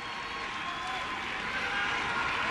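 Football crowd at a Singapore NFA under-15 versus Manchester City under-15 match cheering and applauding a young substitute, a continuous broad wash of clapping and crowd noise with a commentator speaking over it.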